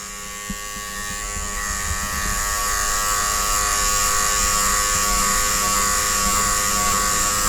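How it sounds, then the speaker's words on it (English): An electric hair clipper hums and buzzes continuously while cutting a skin fade, growing slightly louder as it works close against the head. "Till my clipper is at 0."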